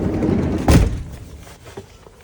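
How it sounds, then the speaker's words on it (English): A door on a Timberland Endeavour caravan swings shut with a single solid thunk at close range, followed by a quieter interior rumble and faint handling noise. "just going to shut this door now"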